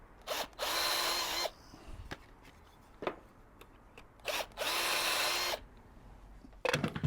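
A drill countersinks holes in wood for a pizza oven table in two short high-pitched whirring bursts with a quieter gap of clicks and handling between them, then a louder start at the end, with no talk.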